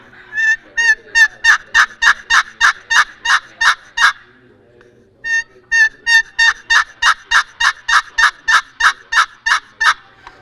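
A turkey call imitates a wild turkey hen's plain yelp, loud and close, in two sharp rhythmic series of evenly spaced yelps separated by a short pause.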